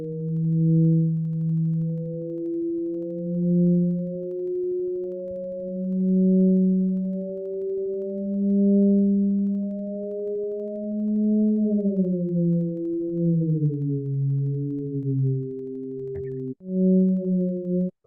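A steady sine-like tone with harmonics, sonified from tilt data, glides slowly upward, then drops in a downward step and levels off, pausing briefly near the end.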